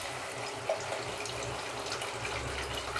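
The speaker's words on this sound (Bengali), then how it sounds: "এবার আমি জলটা মাপ করে দিয়ে দিলাম।" Measured water poured into a pot of moong dal bora curry, a steady close splashing stream that runs throughout without talk.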